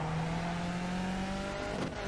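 A race car engine in the iRacing VR sim at Mosport drones at a steady, loud pitch, then briefly shifts as it drops down a gear near the end.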